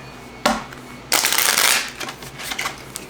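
Tarot cards being shuffled by hand, two distinct riffle bursts, the second longer, followed by softer card handling, close and clear with no talk.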